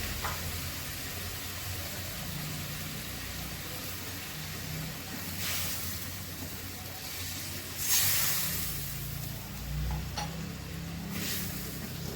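Pabda fish and green chillies sizzle in hot oil in a home kitchen pan, a soft, even hiss with a few brief louder bursts and no talk.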